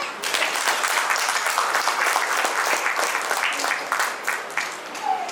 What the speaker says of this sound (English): can we give a nice round of applause